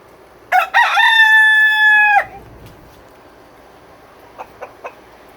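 Outdoors in the rain, a rooster lets out one loud, drawn-out crow close by, followed by a few short, fainter clucks from chickens against a soft, steady background hiss.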